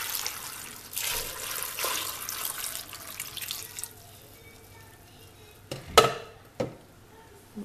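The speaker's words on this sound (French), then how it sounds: "Et je couvre avec 1 litre d'eau." Water pours over sliced courgettes in a Moulinex Companion cooker bowl, a steady splashing stream at first that fades into quieter trickling, followed by a couple of sharp knocks near the end.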